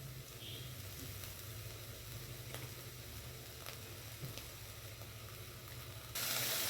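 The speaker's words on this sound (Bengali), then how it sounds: "এখন একটু সর্ষের তেল দেব।" Mustard oil added to a fig and shrimp curry frying in a pan gives a steady low sizzle and hiss, faint and continuous, with a louder burst of sizzling at the end.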